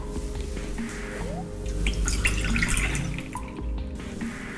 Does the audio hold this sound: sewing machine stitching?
no